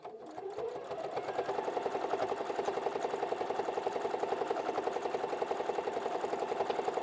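A sewing machine runs steadily, stitching around a fabric book sleeve, its rapid even needle chatter close and continuous from start to finish with no voices.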